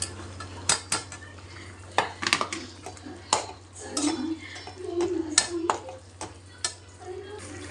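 A spoon scrapes and clanks against a pan as leftover masala is stirred into cooked eggplant curry, irregular close metallic knocks and scrapes in a quiet kitchen.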